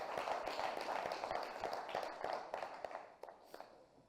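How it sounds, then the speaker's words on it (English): Audience at a Lagos State ministerial finance press briefing applauding, a steady patter of many hands clapping that thins out into a few scattered claps near the end. "I think this deserves a round of applause."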